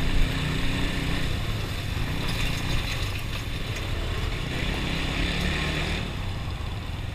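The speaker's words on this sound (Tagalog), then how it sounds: "cafe type siya na motor." A cafe racer motorcycle engine runs nearby with a steady loud buzzing drone, even throughout with slight surges, no talking.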